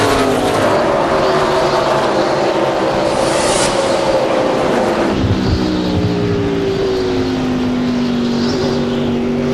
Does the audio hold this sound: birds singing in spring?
no